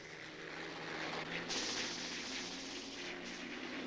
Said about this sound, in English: Italian airplanes took off in wave after wave